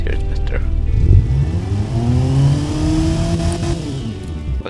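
Inline-four car engine in the Automation video game, revving up and holding a rising, buzzy tone before easing back down, loud and close, with a voice talking over it at the start.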